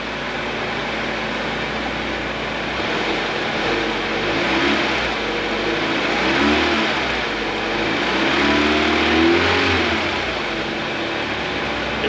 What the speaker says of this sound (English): Let's see if we can get a little bit of rev out of this thing